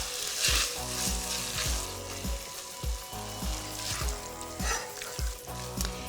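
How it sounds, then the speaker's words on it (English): Chickpeas fry and sizzle in masala in a pan while being stirred, giving a steady close crackle with rhythmic scraping knocks from the stirring and no talk. "Just pop your chickpeas straight into your pan and give them a good stir."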